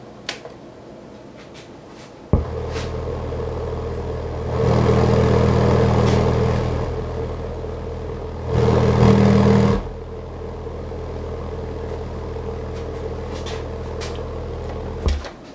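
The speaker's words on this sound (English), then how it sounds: "I'm getting lots of port noise out of here." A Rockford Fosgate R2D2 subwoofer in a ported box gives off deep bass and port noise that swell in two loud bursts over a low hum, with a few clicks at the start and end.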